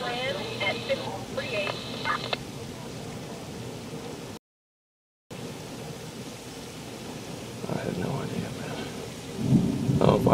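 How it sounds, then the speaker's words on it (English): Heavy rain pours steadily through a tornadic thunderstorm in Cambridge City, Indiana, with rumbling thunder swelling near the end; voices talk briefly over the downpour. "But it's still raining here."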